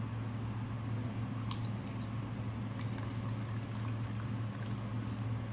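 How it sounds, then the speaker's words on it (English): Petrol being poured into the carburettors of a Honda RC30 VFR750R motorcycle being recommissioned, a steady faint liquid pour over a low constant hum, with no talk. "Pouring petrol everywhere."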